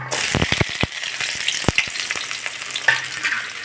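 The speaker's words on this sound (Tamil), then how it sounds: "வெங்காயம் பூண்டு போட்டு வறுக்கிறோம்" Onion and garlic fry in a hot pan for a mutton head curry, a continuous close sizzle with sharp crackles and occasional stirring scrapes and knocks, no voices.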